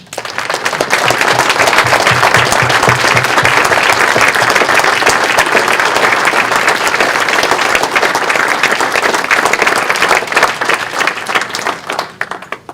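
Audience applause for the candidates at the close of the 2025 Westborough candidates forum: a dense, steady wall of clapping that holds for about twelve seconds, then tapers off at the end.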